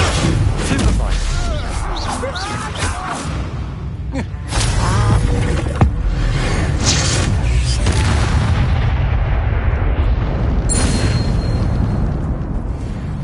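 Incendio fire spell blasts in the video game Hogwarts Legacy, dense booming bursts and crackling impacts layered under continuous combat noise, with voices shouting throughout.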